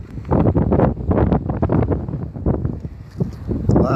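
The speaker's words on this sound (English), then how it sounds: "Could tell with that wind." Strong wind buffets the microphone aboard a fishing boat, a loud, continuous gusty roar with surging bursts throughout and no clear talk.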